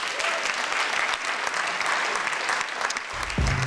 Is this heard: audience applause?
yes